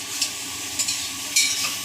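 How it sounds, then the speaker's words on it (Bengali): Chicken masala stir-fries in a pan at home during birthday party cooking: a steady soft sizzle with several brief scraping stirs of a spatula, close and fairly quiet. "এখানে হচ্ছে তোমার চিকেনের মশলাটা কষানো হচ্ছে"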